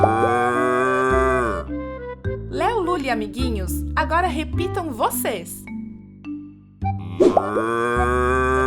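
Drawn-out cow moos open and close a cheerful children's farm-animal song, with a voice speaking over playful music in between.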